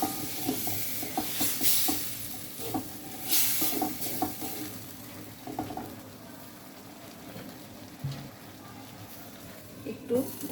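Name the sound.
stir-frying bottle gourd with spice paste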